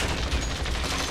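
Dense, continuous gunfire roars through a Call of Duty Modern Warfare match, a loud, unbroken wash of shots with no clear gaps and no talking.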